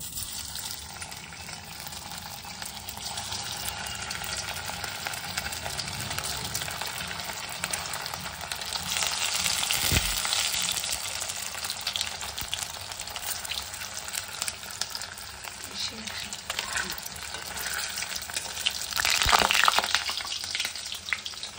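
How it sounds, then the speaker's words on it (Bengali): Chicken pieces frying one by one in hot oil in a kadai: a dense, continuous sizzle that swells in the middle and again near the end, with occasional splashes and no speech. "এবার এগুলো একটা একটা করে আমি এর মধ্যে ভেজে নেব।"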